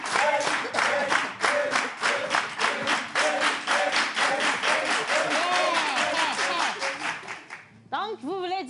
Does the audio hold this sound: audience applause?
yes